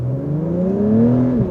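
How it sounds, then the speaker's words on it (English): A 2021 Acura TLX Type S with a turbocharged V6 drones steadily through its exhaust under acceleration, a loud, close, smooth low hum that climbs gently in pitch and then eases. "And that exhaust we were mentioning earlier, I'm sure you can hear that now. Sounds great."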